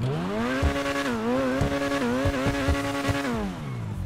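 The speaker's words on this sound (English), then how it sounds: "The sound of the exhaust is just so great." A sports car exhaust in the video game GTA 5, a modded police Ferrari, drones loudly and steadily, its pitch wavering up and down with a few sharp pops, with no talking.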